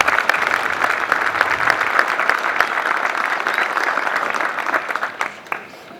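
Audience applause at an LAPD recruit graduation ceremony, dense and sustained clapping from a large crowd that holds steady for several seconds before thinning out at the end.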